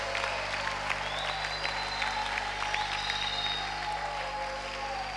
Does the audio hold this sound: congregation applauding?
yes